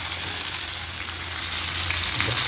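Fish sizzling and frying in oil in a pan, a steady, dense crackle that holds close and loud for the whole stretch, with a faint stir or shift near the end.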